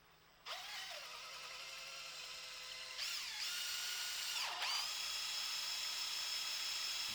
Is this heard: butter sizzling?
no